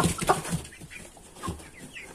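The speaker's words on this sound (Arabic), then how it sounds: "ديكين وأربع فرخات" Several Brahma chickens, two roosters and four hens, cluck in short, uneven bursts close by, with a few louder calls standing out against a light farmyard background.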